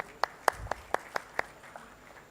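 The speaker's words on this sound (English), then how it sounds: "Can we have a huge round of applause for all of them?" Scattered hand claps ring out at the Odisha Tex 2025 launch event in Bhubaneswar: about seven distinct, evenly spaced claps that are moderately loud, with no dense crowd roar.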